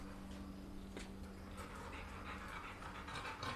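A dog pants in a cool hotel room in Thailand, a steady soft rhythmic breathing heard close and quiet over a constant room hum.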